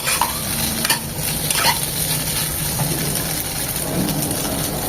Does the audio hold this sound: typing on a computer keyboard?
no